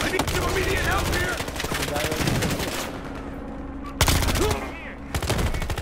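Heavy gunfire in the video game Battlefield Hardline rattles in dense, loud bursts, broken by a sharp grenade explosion near the middle, with a player's voice calling out amid the shooting.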